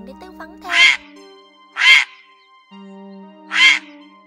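Grey herons give flock calls. Three loud, harsh, rasping croaks ring out alone at spaced intervals over a quiet, faintly humming background.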